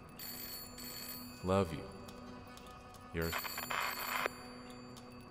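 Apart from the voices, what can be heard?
telephone ringing in the video game Layers of Fear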